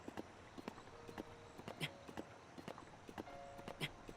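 A horse in the video game Zelda: Breath of the Wild trots with a steady, quiet clip-clop of hooves in a faint, even rhythm that repeats throughout.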